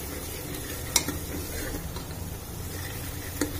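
A spoon stirs chicken nihari masala with Kashmiri red chili and salt in a pan, giving a soft continuous scraping with a faint sizzle and two brief clinks, close and fairly quiet, with no talking.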